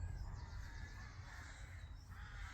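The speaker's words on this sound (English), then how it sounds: "This crow reminds me of Crowbar." A crow caws outdoors, harsh calls repeating through a steady noisy background, moderately close.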